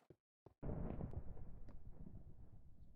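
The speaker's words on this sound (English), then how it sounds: "I think that's actually my first time hearing thunder or even being in a thunderstorm on this world" Thunder during a Minecraft thunderstorm: a brief click, then a loud, deep rumbling crack that rolls and slowly fades over several seconds.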